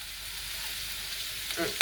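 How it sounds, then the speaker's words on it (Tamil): Fennel seeds and dried curry leaves sizzle in a little oil, a soft, steady frying hiss that swells slightly near the end with a few close clicks of stirring. "இதுக்குள்ள பெருஞ்சீரகம் போடுவோம். காஞ்ச கருவேப்பிலை"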